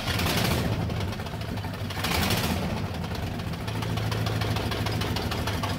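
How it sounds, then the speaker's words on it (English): A carbureted Chevrolet Nova engine cranks and sputters in freezing weather, its rough, knocking mechanical chatter rising and sagging as it catches and falters, heard close with no talking. "with this type of engine, you have to start it and let it die a couple of times"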